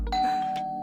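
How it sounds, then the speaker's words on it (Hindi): A doorbell gives a single loud, clear electronic chime, close and alone, lasting under a second. "जिंदगी में पहली बार इतना मजा आ रहा है डोरबेल बजने से।"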